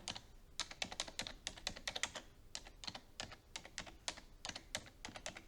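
Rapid bursts of keystrokes clatter on a computer keyboard as text is typed into a Word document, the Enter key pressed between short runs, close and crisp with small pauses.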